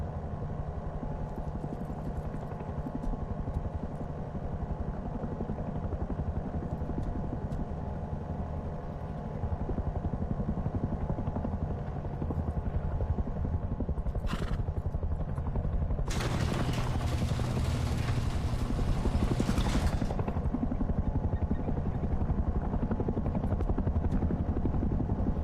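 A video game helicopter hovering with a steady rotor drone throughout, joined by bursts of heavy gunfire as it guns down people, loud and close with no talk.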